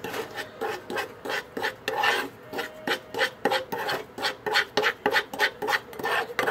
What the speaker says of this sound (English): And then we'll just start mixing it together.